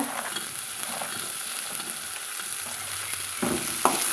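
Vegetables with turmeric fry in a pan with a constant close sizzle, broken by a few sharp scrapes and knocks as a spoon stirs them near the end.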